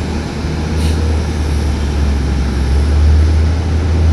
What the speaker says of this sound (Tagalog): Ano nakikita nyo yung maliit na yan sa harapan ng eroplano, ayan ang tumutulak.